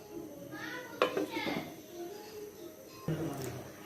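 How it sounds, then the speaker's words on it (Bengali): A lid clatters onto a pot of milk holding soft chitoi pitha, two sharp metallic knocks about two seconds apart, close by, amid faint kitchen clinks and background voices. "দুধ ঢাকনা দিয়ে ঢেকে দিব"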